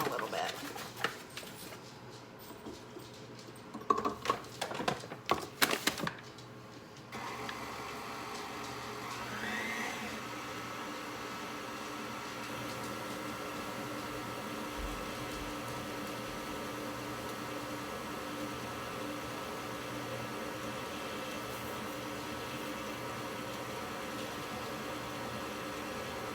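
An electric mixer works flour into dough for quick dinner rolls, beginning with a few clattering knocks before settling into a steady, loud whirring drone that runs on unbroken.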